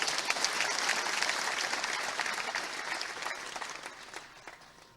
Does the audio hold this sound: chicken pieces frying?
no